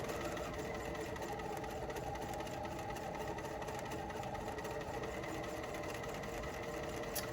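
Sewing machine stitching apron strap fabric, running steadily and continuously with a dense, even mechanical whir throughout, close and moderately loud, with no talk.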